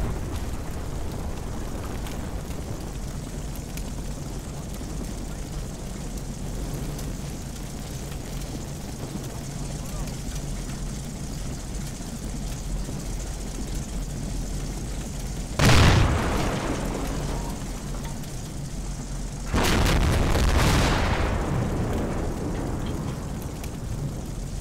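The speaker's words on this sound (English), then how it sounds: "I think I've got mortars coming down on me." Mortar rounds land in the WWII strategy game Combat Mission Fortress Italy, two heavy booms about four seconds apart against a steady rain-like battlefield hiss, the second rolling on longer.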